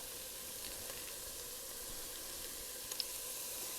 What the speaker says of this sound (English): I'm going to let these saute for a couple minutes until they become tender and the onions become translucent